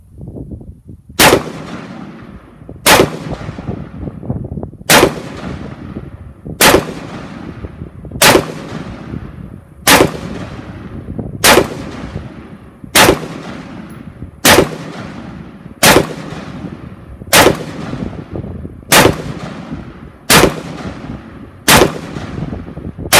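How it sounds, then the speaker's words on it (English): An Israeli Galil rifle fires single shots at an outdoor range, about thirteen in all, loud and evenly paced roughly every one and a half seconds. Each crack is followed by a short decaying echo, with no talking. "we're going to take the Galil out to the range."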